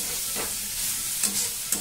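A cauliflower and potato spice mix, loosened with a little water, is stirred and fried in a pan. A steady broad sizzle runs throughout, with a few brief scraping stirs.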